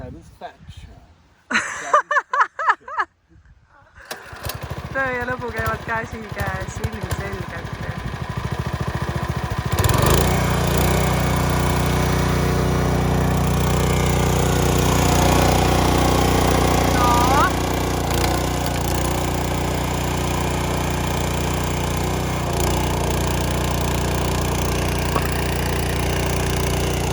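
A chainsaw is pulled to start and then runs, its steady engine drone holding loud and close through the second half. Short, choppy bursts from the pull attempts come before it, and people talk throughout.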